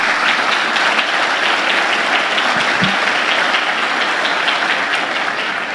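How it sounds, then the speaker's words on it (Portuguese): A church congregation applauds during a sermon, loud sustained clapping that fills the space evenly from start to finish without speech. "Vamos aplaudir Jesus,"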